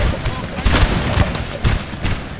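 Musket volleys from Napoleon: Total War, fired at grenadiers on a battlefield. Several heavy, rolling cracks of gunfire arrive in uneven bursts, booming and close, with muffled battle noise between them.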